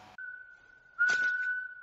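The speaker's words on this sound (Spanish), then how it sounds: "llega el primer silbido de Poseidón" A single sustained, steady high whistle tone from an anime fight scene that holds for nearly two seconds, with a burst of noisy hiss joining it partway through.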